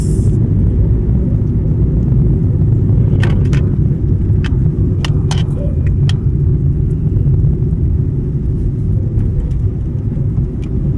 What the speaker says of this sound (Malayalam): അവിടുന്ന് ഒരു വണ്ടി വരുന്നുണ്ട്